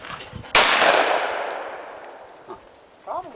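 A single loud shotgun blast fired at a clay target on an outdoor range at Cacapon State Park, West Virginia, rings out sharply and decays slowly, followed by faint voices.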